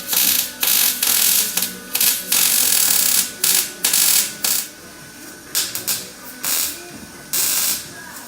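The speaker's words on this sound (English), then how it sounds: "I'm going to get to welding these tubes in" MIG welding of roll cage tubes on a Mustang drift build gives a close, crackling hiss that comes in short bursts, each a second or so long, separated by brief pauses.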